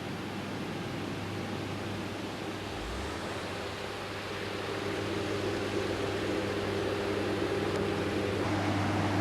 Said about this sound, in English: The humming that you hear in the background is a very small hydroelectricity power station